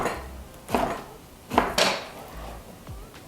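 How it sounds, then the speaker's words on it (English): Knife chopping soft bread into chunks on a board for banana bread pudding, a few separate dull thuds spaced irregularly, close and fairly quiet. "I'm gonna chop these into bigger chunks"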